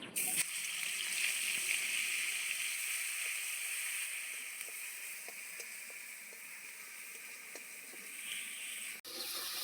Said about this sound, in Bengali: সেই একই তেলে দিয়ে দিচ্ছি আমি পেঁয়াজ বাটা